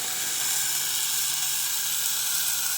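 Onions, green chili, ginger and garlic sauté in a hot pan, giving a steady, close, even sizzle with no one speaking.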